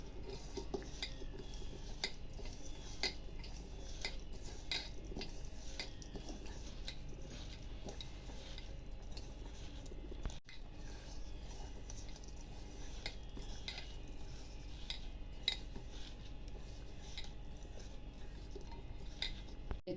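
A spoon stirs a vermicelli modak mixture with cardamom powder and dry fruit in a pan, making light repeated clinks and scrapes, quiet and steady throughout.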